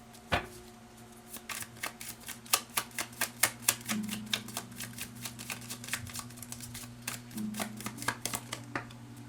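Tarot cards being shuffled in a rapid run of crisp riffling flicks close by, briefly pausing and then flicking again, with a steady low background hum and no talking.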